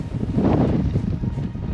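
Strong wind at Shell Beach buffets the microphone in loud, rough gusts for a brief moment, with no other sounds standing out.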